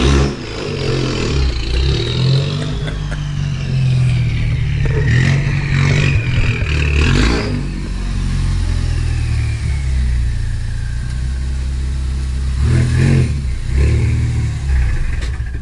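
A car with a five-speed manual gearbox draws near and pulls up, its engine rumbling and revving steadily throughout, louder in the middle with clattering bursts, then settling toward idle.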